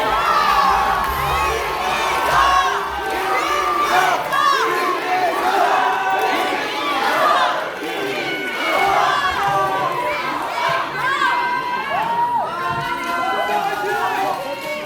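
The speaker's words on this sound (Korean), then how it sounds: "뜨거운 박수로 맞아주시기 바랍니다" Crowd noise at a Korean party convention rally in Chungbuk, with continuous loud cheering, shouting and whooping from a large audience throughout, dense and sustained rather than distinct claps.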